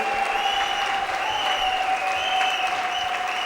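A church congregation claps and cheers for the glory of the Lord, steady sustained applause filling the room with a faint tonal hum underneath.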